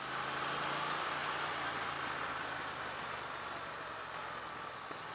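A 2017 Triumph Thruxton R motorcycle cruises slowly at about 25 mph, its engine a steady close drone blended with broadband wind rush that holds constant throughout, with no talking.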